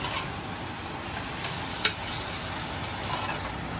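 Chicken sautéing in a pan with a pinch of turmeric for Kerala-style chicken stew, giving a steady close sizzle throughout with a few faint ticks and one sharp utensil tap.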